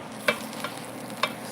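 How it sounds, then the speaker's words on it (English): Cornmeal stirred in a pot, heard as three sharp spoon knocks and scrapes against the pot at uneven intervals over a soft background hiss. "I'm going to stir again."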